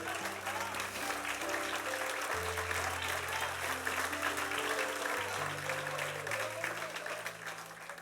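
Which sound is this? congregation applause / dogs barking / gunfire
congregation applause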